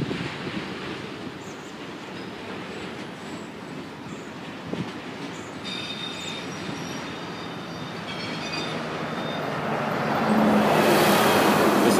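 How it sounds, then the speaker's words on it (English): A long Norfolk Southern freight train of autorack cars rolls past steadily, a continuous rumble and clatter of wheels on rail that swells louder toward the end, with faint metallic squeals over the steady roar. "This is one long Autorack train though"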